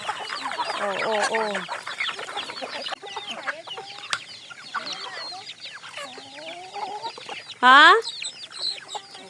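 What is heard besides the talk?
hungry chickens clucking in the countryside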